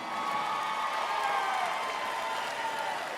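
Graduation commencement audience applauding parents and family, steady dense clapping with scattered cheers and whoops from a large crowd, sustained evenly throughout.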